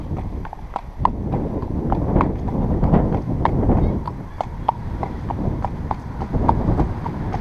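Horse hooves clip-clopping at a steady walking rhythm on a hard surface, close and clear over a constant low rumble, with people talking in the background.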